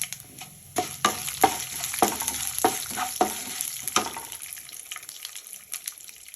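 Green chillies, cumin and sesame seeds sizzle in a hot pan for ridge gourd chutney, a close frying hiss broken by clinking, scraping stirs that fade toward the end.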